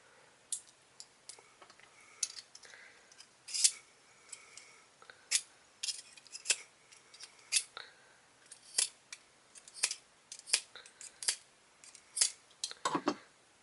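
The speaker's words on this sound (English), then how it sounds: "I probably shouldn't be sharpening it with my hand." A utility knife blade drawn by hand through an AccuSharp 4-in-1 knife and tool sharpener, making sharp, close metallic clicks and scrapes in a quick irregular series of separate strokes, fairly quiet with no talk.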